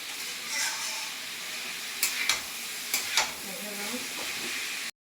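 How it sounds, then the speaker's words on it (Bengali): Onion, potato and carrot fry in a pan with a steady broadband sizzle, broken by a few brief clattering stirs near the middle. "পেঁয়াজ আর আলু আর হচ্ছে গাজর মোটামুটি ভাজা হয়ে গেলে তারপরে ক্যাপসিকামটা দিয়ে দেবো।"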